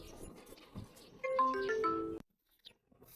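An outgoing phone call to a customer rings as a short electronic melody of tones, repeated over about a second, then cuts off abruptly into near silence.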